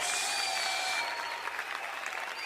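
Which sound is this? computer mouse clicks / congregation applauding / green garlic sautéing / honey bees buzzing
congregation applauding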